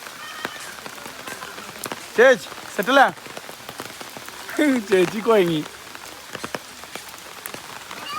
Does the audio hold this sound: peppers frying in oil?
no